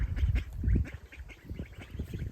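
Several ducklings quack in quick, uneven bursts close by, overlapping calls with no talking.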